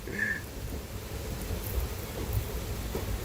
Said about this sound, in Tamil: எப்பா ஹெவியா பெய்ய ஆரம்பிச்சிருச்சுப்பா மழை